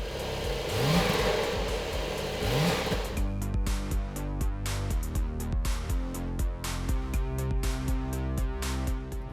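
A Porsche 911, comparing a 1965 car with a 2020 model, with its rear-mounted engine revving loudly and accelerating close by, followed by a steady, dense mechanical engine roar with rhythmic pulsing.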